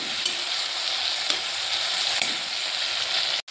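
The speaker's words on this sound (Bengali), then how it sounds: "ভালো করে টমেটোটা আমি নেড়ে চেড়ে ভেজে নেব।" Chopped tomato sizzles steadily as it is stirred and fried in a pan, a close, even hiss with faint scraping and no talking.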